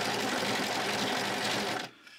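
A sewing machine stitches a T-shirt neckband in a fast, steady whirring run that cuts off abruptly near the end, leaving near silence.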